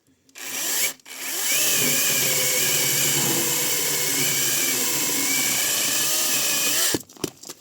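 A Zegor CSPP-21BL cordless saw starts with a brief burst, then runs steadily with a buzzing motor whine for about six seconds before cutting off.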